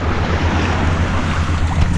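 Sea waves wash steadily onto an island beach with a continuous broadband surf roar, close and fairly loud, mixed with some wind buffeting on the microphone and no talk.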